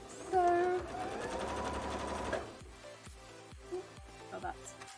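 A sewing machine top-stitching a bra runs in a steady mechanical whir for about two seconds, then stops, leaving a few soft handling taps and faint speech in the background.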